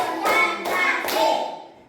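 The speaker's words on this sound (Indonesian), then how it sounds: "Tepuk tangan." Rhythmic hand clapping from a primary school class, three loud group claps in a steady beat followed by a fading tail, with no voices over them.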